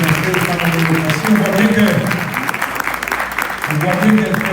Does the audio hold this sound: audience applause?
yes